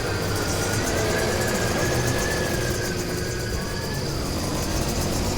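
A new motorcycle in a motocross video game, its engine running as a continuous steady drone and hum that stays loud and even throughout, with no talk over it.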